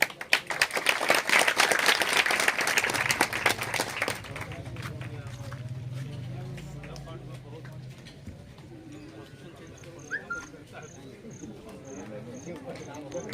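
A crowd at a village kirtan festival welcome ceremony in Bhathli claps loudly for about four seconds, then the applause fades to scattered claps while a voice speaks over a loudspeaker.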